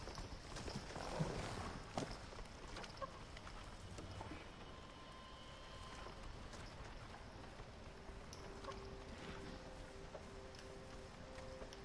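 Horses gallop in the Ghost of Tsushima video game, a steady run of clip-clop hoofbeats with a louder burst early on, set against a busy outdoor game soundscape with no talking.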